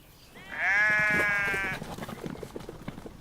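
A sheep gives one long, loud, wavering bleat lasting just over a second, followed by quieter rustling and background noise.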